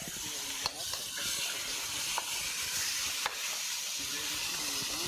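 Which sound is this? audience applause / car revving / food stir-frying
food stir-frying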